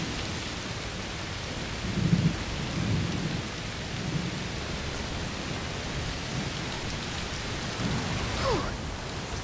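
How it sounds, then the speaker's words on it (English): A heat thunderstorm in A Plague Tale: Requiem: dense, steady rainfall with low thunder rolling in the distance, swelling briefly and then easing, with no voices. "Must be a heat storm."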